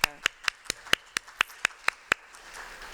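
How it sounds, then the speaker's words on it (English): About ten sharp claps in a steady, even rhythm, close and fairly loud, then quiet room tone. "I'd like to give you a round of applause"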